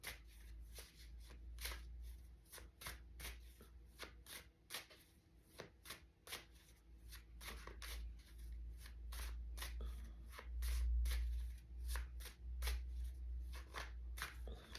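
Tarot cards are shuffled steadily for about fifteen seconds, a close, continuous run of crisp riffling and slapping strokes with a low background hum and no talking.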